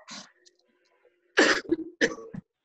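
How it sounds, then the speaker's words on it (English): Three or four harsh coughs and throat-clearing bursts close by, spread across a couple of seconds with brief quiet gaps between them. "I am so sorry about the coughing."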